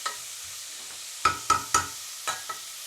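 Vegetables sautéing in a pan for a meatless lentil bolognese, heard as a faint low sizzle broken by a few sharp stirring clatters, alone with no talk.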